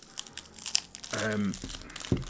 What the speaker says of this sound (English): I will open up a couple of bulk packs and just shuffle through them